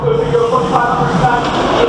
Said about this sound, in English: That red train on the lift hill is about to stop, like right now.